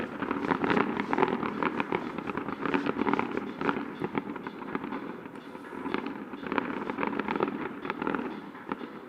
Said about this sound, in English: Looks like there's a lot of fireworks going on.